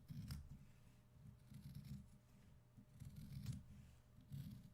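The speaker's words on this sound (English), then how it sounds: "now I'm just going to cut right along this edge." Scissors cut through fabric for a mini Christmas tree skirt, giving repeated close, crisp snipping crunches in a steady rhythm of several cuts, alone without talk.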